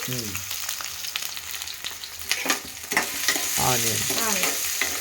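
Onions and green chillies sizzle steadily in a hot pan for fish curry, a close continuous frying hiss with stirring scrapes, while a voice talks over it.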